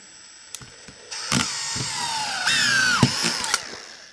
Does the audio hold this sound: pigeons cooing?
no